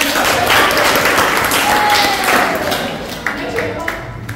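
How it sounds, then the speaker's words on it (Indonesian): A room full of preteens at a dental care talk claps loudly together, a dense burst of applause that tapers off near the end while a voice speaks over it. "Oke, tepuk tangan."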